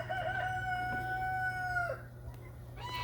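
A rooster crows at a chicken coop, one long drawn-out call close by that cuts off sharply, followed by softer clucks over a steady low background hum.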